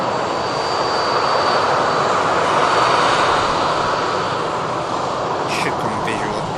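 A Norwegian jet airliner taxiing to the second runway at Manchester Airport gives off a loud, steady engine roar that holds throughout, close and continuous.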